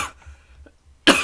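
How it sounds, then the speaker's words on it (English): A single loud, harsh cough bursts out near the end after a quiet stretch of low background hum. "Sorry, I got a cough."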